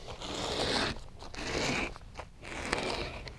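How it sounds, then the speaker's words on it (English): A razor knife slices a strip of headliner material for a classic VW Beetle, giving three long rasping cuts close up with brief pauses between them. "I'm going to cut a strip, say 3 inches, 4 inches, something like that. And just kind of cut it straight down."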